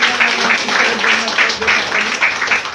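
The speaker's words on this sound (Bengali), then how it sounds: "গুরু গুরুমার জন্য একটা বিগ হাততালি হবে।" Audience at a Vestige gathering breaks into sustained applause for the guru and guru-ma, a dense, steady wash of many hands clapping close by for the whole stretch, with faint voices mixed in.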